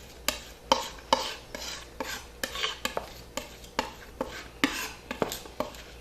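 Knife blade scraping and pressing raw garlic against a board into a smooth paste, a steady run of sharp close-up scrapes and taps in quick rhythm with no talking.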